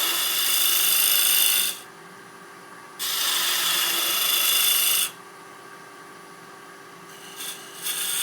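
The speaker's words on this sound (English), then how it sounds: "I'm just working to clear out material to give this tool somewhere to go when I'm undercutting the bottom of this foot" A mini detailer woodturning tool cuts into a turned pedestal foot on a lathe, undercutting and parting it off: two long, loud rasping scrapes, then a couple of short, lighter cuts near the end.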